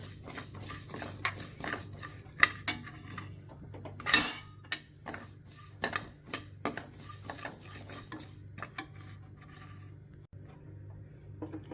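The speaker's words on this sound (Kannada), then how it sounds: "ಕಡಾಯಿ ಬಿಸಿ ಆದಮೇಲೆ ಫಸ್ಟು ಎಳ್ಳು ಗಸಗಸೆ ಇದೆಯಲ್ಲ, ಇದನ್ನು ಸ್ವಲ್ಪ ಹುರ್ಕೊಂಬಿಡೋಣ" Sesame and poppy seeds roasting in a hot kadai, stirred with a metal utensil, giving repeated close scrapes, clinks and rasping strokes in an uneven rhythm over a low steady hum.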